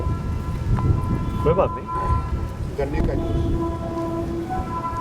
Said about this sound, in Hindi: बारिश तेज आ रही है।